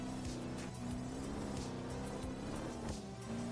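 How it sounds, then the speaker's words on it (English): A Ford RS200 rally car from the racing game Ford Racing 3 holds a steady, high-pitched engine note, revving continuously and loudly at close range with no talk over it. "It's a little screamer of an engine."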